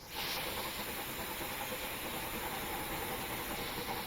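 A rebuilt Merchant Navy steam locomotive in Train Simulator pulls away as the regulator is opened, giving a loud, steady rush of steam hiss that lasts the whole time with no gaps.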